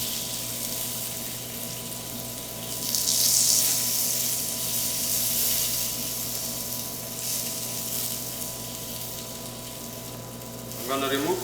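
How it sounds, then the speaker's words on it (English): Zucchinis sizzling on a grill beside cooking wild salmon, a steady hiss of frying that swells briefly and carries on under a constant background hum, with no one speaking. "I can actually start grilling my zucchinis."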